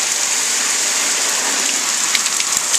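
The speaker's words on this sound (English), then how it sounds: "here's our rain shower we're experiencing out on the cold" Shower water sprays steadily onto a jacket in a rain-shower test, a constant loud hiss of droplets spattering on fabric with a few sharper drips near the end.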